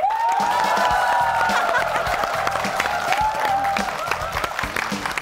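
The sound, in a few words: audience applause welcoming a guest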